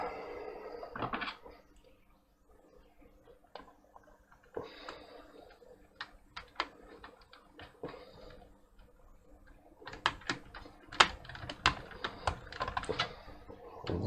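Fingers type on the worn keyboard of an Atari 65XE/130XE computer in scattered bursts of close, sharp key clicks with pauses between them, no voices.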